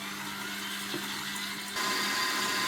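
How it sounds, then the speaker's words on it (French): An electric hand mixer whirs steadily through eggs and sugar in a bowl. The motor climbs to a louder, higher-pitched drone partway through as it speeds up, heard close up with no voices. "J'ajoute mon sucre. Et je remets en route le batteur."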